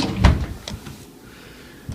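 A kitchen drawer in an on-campus apartment slides open or shut with one firm thump, followed by faint rattles and a quieter knock at the end.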